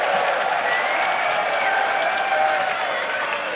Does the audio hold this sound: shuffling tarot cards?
no